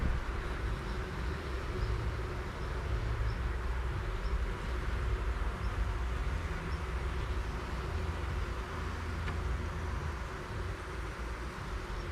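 Honeybees buzz in an open hive while the queen cells are checked after part of the colony swarmed away with the queen. The hum is dense, steady and low, close by, with no talking.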